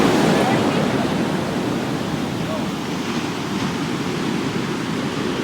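Ocean surf washing steadily onto a beach, a loud broadband roar close by that holds level across the whole stretch with no distinct single wave break standing out.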